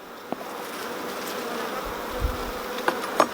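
Honeybees buzz steadily around an open hive during a queen-marking inspection, a continuous close drone with a few louder passes of individual bees near the end.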